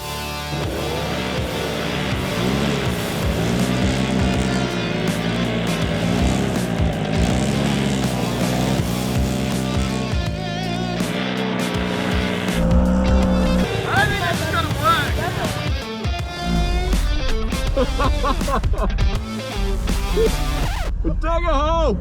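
A 79 Series Toyota LandCruiser and a Polaris RZR Turbo R in a tug-of-war challenge, engines revving loud and strained with tires working, while people shout and talk over the noise throughout.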